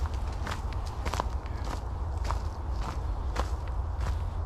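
Steady footsteps crunch over firm, hard ground on a woodland path, walked at an even pace close by with no one talking.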